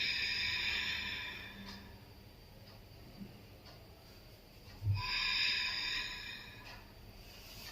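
Forceful breathing-exercise exhalations during a yoga session for colds and coughs: two long, breathy hissing bursts close to the mic, separated by a quieter stretch of soft breath.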